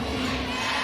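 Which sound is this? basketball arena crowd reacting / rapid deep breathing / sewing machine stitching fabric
basketball arena crowd reacting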